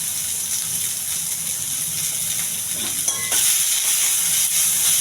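Onions, green chilies and curry leaves fry in oil, giving a loud, even hiss up close, with a short clatter partway through as the sizzle briefly intensifies.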